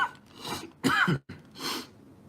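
A few harsh, breathy coughs come in quick succession, close and moderately loud, with short pauses between bursts.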